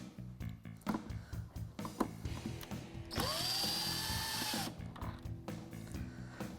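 A power drill whines in a sustained burst for about a second and a half, removing screws from the taillights of a 2007–2018 Jeep Wrangler, surrounded by close ratcheting and mechanical clicks.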